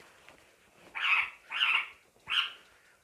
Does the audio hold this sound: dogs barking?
yes